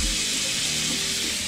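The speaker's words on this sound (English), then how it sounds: "let's put it under the water and see what comes out" Tap water runs steadily onto a dirty cold air intake filter being rinsed under a faucet, a continuous close splashing hiss.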